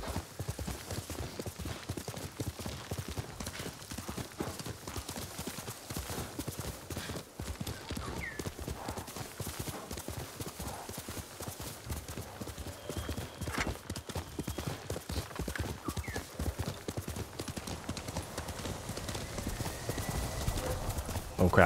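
Rapid clip-clop of hooves pounds steadily throughout as a horse gallops in the video game Ghost of Tsushima, with occasional faint background sounds and no clear speech.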